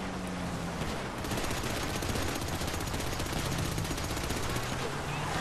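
Sustained gunfire from a GTA V Online mission fills the scene, dense automatic bursts and shots rattling continuously at steady loudness with a busy game soundscape.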